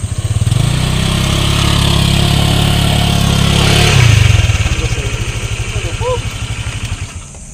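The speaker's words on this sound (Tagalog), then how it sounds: "Ginawa mong traktor yung motor mo." A motorcycle engine running rough like a tractor, a loud low chugging rumble close by that rises slightly, then settles into a slower uneven putter and fades as voices talk over it.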